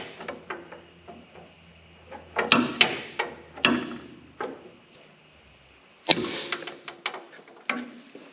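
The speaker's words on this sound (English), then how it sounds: "It may help to get in here with a pry bar. And tap the clamp loose." A pry bar taps a tie rod clamp loose on a Lexus or Toyota SUV, sharp metallic knocks in scattered bursts, some single and some in quick clusters, loud and close with no talking.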